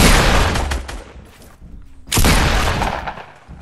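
Rapid, loud bursts of minigun fire from the Fortnite video game rattle in two long stretches separated by a brief lull.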